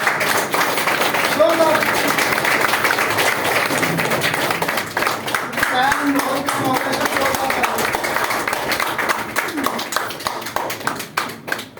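Audience claps loudly for a speaker at a business and investment seminar in India, a sustained round of crowd applause lasting over ten seconds, with faint voices mixed in beneath it.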